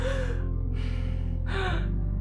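A man with COVID-19 demonstrates short, strained breaths, two or three raspy gasping inhalations with pauses between, close and fairly loud over a steady low hum, no speech.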